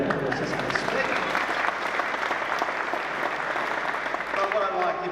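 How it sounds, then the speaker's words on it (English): Audience applause at the official opening of the Chelsea SES new headquarters, steady dense clapping from a crowd filling the whole stretch without a break. "I reckon he deserves around applause just for speaking"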